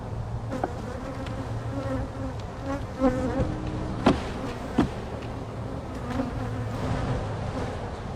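Honey bees buzz steadily around a hive frame, a dense close-up drone that holds for the whole stretch with a few brief louder swells and no talking.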